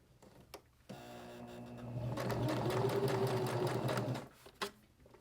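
Sewing machine stitching through layered fabric for a stacked Christmas tree, a few faint taps then a steady close whirring run of about three seconds that stops abruptly, followed by a couple of clicks.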